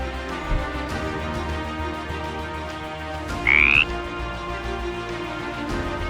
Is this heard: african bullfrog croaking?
yes